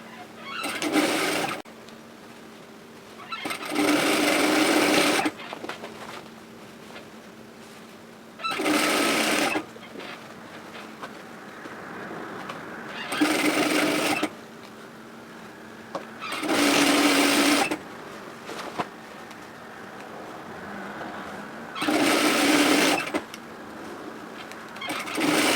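A sewing machine stitching a lined shopping tote bag, running in six or seven loud bursts of steady whirring separated by quiet pauses with faint handling noises.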